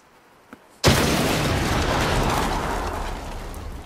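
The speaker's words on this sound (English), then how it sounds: "We should probably get out of here before our bomb blows up." A bomb detonates in the Saints Row reboot video game with a sudden loud blast after a brief quiet moment, then a long roaring rumble that slowly fades over several seconds.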